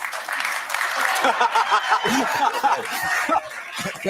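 A crowd cheers and laughs through the whole stretch at a talk on men's fortunes in a changing society, a dense steady roar of whoops and chuckles with a few voices rising above it.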